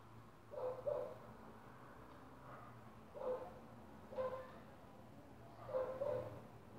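A dog barks from out on the street in a residential neighbourhood, and the sound is faint and distant. It comes as short clusters of yaps spread across the clip, over a low background hum.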